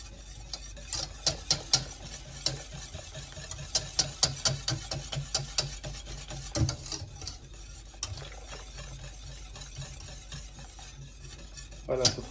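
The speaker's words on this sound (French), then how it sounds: "Je vais continuer à brasser" Spoon scraping and stirring lemon cream in a pot as it heats and thickens, with irregular soft clinks and scrapes close by and quiet stretches between strokes.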